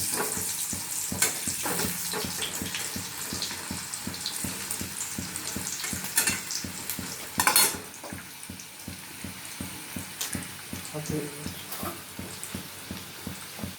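Par-boiled potatoes frying in oil in a pan, a steady close sizzle and crackle with rhythmic spatula scrapes throughout and a brief louder burst midway.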